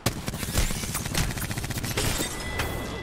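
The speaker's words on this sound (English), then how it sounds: "They're shooting from above" Gunfire in the Apex Legends video game, a dense run of rapid shots and bursts rattling continuously for a few seconds, loud and close, with no talk over it.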